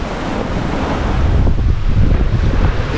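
Big ocean waves and surf rush and roar continuously around a sailing boat making fast surf speed in a gale between the Faroe Islands and Norway, with strong wind buffeting the microphone throughout.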